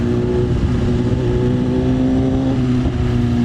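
A BMW S1000 RR superbike at a superbike meetup roars loudly and close by, its engine note holding then dipping through downshifts in one continuous, dense sound.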